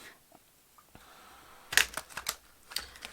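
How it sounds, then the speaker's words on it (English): Tarot cards being shuffled by hand: quiet soft handling, then a short burst of crisp riffling snaps and a few scattered clicks and slaps, close by and without speech. "these cards are gorgeous, but definitely not as smooth to shuffle"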